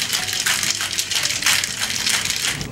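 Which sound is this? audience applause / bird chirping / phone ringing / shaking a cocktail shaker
shaking a cocktail shaker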